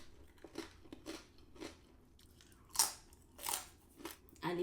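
Close crunching bites and chewing of rice crackers with octopus and corn in a sweet spicy sauce, a series of crisp crunches at a steady pace, louder toward the middle, with no talking.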